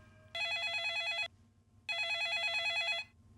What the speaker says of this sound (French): Soudain, le téléphone sonna.